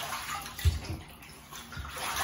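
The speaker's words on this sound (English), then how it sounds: "So I'm just gonna splash a little water on her a little bit." Water splashes onto a puppy in a bathtub during its first bath, a soft slosh standing out from the continuous trickle and wash of water, with a couple more gentle splashes following.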